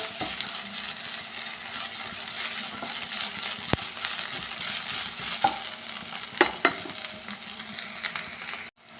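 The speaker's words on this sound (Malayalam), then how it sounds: "അത് നന്നായിട്ടൊന്ന് മിക്സ് ആക്കി എടുക്കുക" A spoon works ground ginger through frying chicken curry in a pan, with steady close sizzling underneath and occasional scraping clicks and clinks against the pan, no voices.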